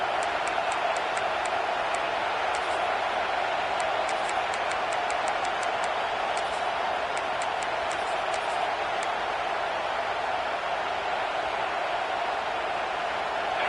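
A home stadium crowd in the College Football 25 video game roars without a break at Clemson's Death Valley on a third down: a dense, even wash of noise with faint ticking clicks on top.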